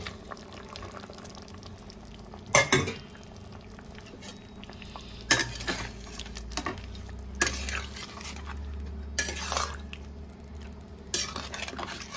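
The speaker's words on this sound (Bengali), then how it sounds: "ঝোলটা ফুটে গেছে, এবার আমি ভেজে রাখা মাছ আর ভেজে রাখা বেগুনগুলো দিয়ে দেব।" Fried fish and eggplant pieces drop into a boiling curry, producing a few sharp splashy plops over a steady low bubbling simmer, close by with no voices.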